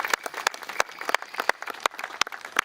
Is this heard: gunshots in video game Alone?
no